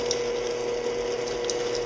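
A stand mixer runs on slow through cookie dough, a steady close motor whine with a fixed hum and faint irregular clicks and knocks from the bowl.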